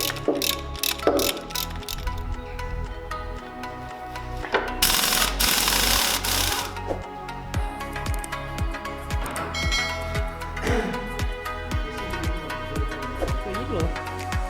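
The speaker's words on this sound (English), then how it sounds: "we'll unbolt all these bolts over here, and then we will slide it out" A ratchet clicks in repeated rhythmic bursts while transfer case bolts are loosened on a wrecked Tesla drivetrain being built into an off-road truck. It sounds close and fairly loud, with some mechanical clatter mixed in.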